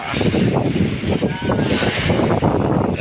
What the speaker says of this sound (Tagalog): lakas ang hangin mga idol